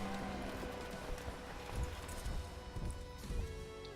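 Horse hooves clip-clop in the strategy game Crusader Kings II during a Norse winter campaign, a soft, quick, irregular run of hoofbeats under a low-level musical drone.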